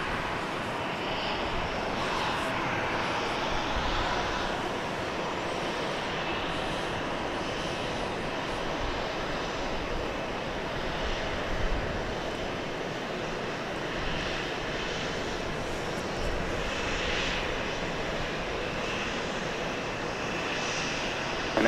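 A Southwest airliner takes off from runway 13 left at Dallas Love Field, its engines giving a sustained broad roar that holds steady throughout, heard from a distance with no talking.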